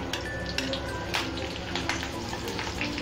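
Green chilies dropped into two spoonfuls of hot oil sizzle and crackle steadily at close range, with a few sharper spits and faint stirring through the short stretch, no voices.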